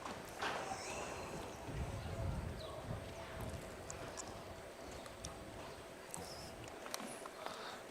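Hooves of a harness racing horse on infield grass at a county fair, soft irregular thuds moving back and forth at a distance, under a commentator's voice and light outdoor background noise.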